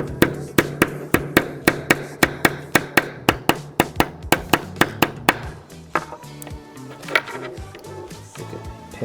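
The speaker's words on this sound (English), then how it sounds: "and hammer it." Pin being hammered into a GHK Glock Gen5 airsoft pistol: about twenty sharp, evenly spaced metallic taps close up, followed by a few softer scattered knocks and handling noises.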